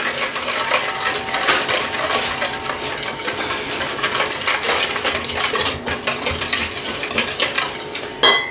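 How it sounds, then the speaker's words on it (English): Grated ginger whisked into a pumpkin cake batter, a steady, busy clatter and scrape of a whisk against a bowl that runs on without pause, close and fairly loud. "three tablespoons of freshly grated ginger all right and we're just gonna whisk that in"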